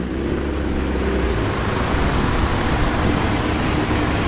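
A classic Mark II car drives past at an evening car meet, making a continuous low engine rumble and road noise that stays steady throughout, with no voices.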